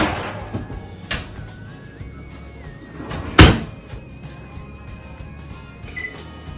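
A home kitchen oven door is shut after a bubbling roast beef hash is checked, giving one solid thud midway among lighter clatters and a faint background tone.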